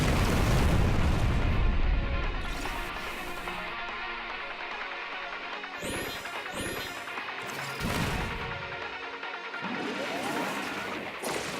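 Explosions and blasts from the sci-fi shooter game Steredenn: a loud crash opens, followed by several booming bursts and zapping sweeps over continuous game music.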